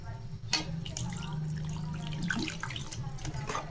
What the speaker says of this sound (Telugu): 2 గ్లాసులు నీళ్ళు అన్నది వేస్తున్నాను.